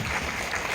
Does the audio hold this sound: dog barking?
no